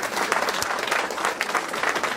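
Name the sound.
audience applauding at a meeting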